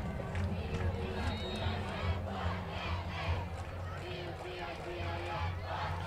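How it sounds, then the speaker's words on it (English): A home crowd at a DeForest vs Edgewood high school football game cheers and shouts, a loud, sustained roar with rhythmic yells from many voices and no distinct talk. "The home crowd excited tonight"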